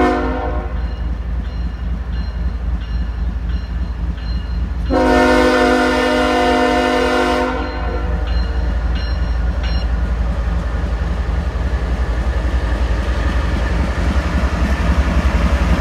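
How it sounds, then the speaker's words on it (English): A loaded coal train rumbles steadily throughout, with a loud, sustained horn blast in the middle lasting a few seconds before the rolling noise continues. "Got a coal train back there that's empty and now a loaded coming in"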